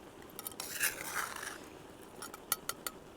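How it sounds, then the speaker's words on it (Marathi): Metal spoon scraping and clinking against a pan while stirring a wild leafy vegetable dish, with a few soft scrapes followed by several sharp clinks near the end, quiet and close. "भाजी मधून अशी हलवीत राहायची"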